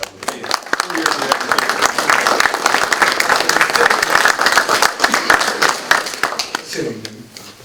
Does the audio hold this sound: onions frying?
no